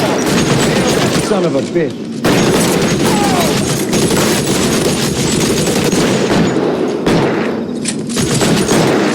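Gunfire from the L.A. Noire video game rattles loudly and almost continuously in dense bursts, broken by brief gaps, while a man curses over the shooting.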